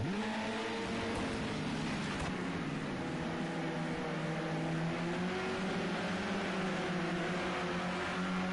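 Touring race cars in a close pack at the Silverstone National circuit, engines droning loudly and steadily with rising and falling pitch as several cars pass nearby.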